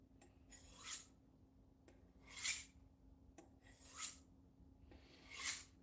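A kitchen knife drawn along a honing steel in four long, smooth strokes, each a bright metallic swish rising and fading at an even pace, with quiet pauses between.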